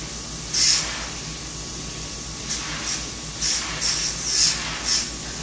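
An airbrush sprays thin candy paint in light layers to shade the underside of rivets. It gives short, soft hissing bursts, one early and then a cluster of quick pulses, close to the microphone, with no voice.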